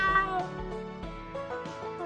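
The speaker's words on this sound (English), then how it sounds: "One of the barn kittens comes over and rubs against your leg" A barn kitten in the video game Choices: Red Carpet Diaries meows several times in quick succession, close and fairly loud, with no talk.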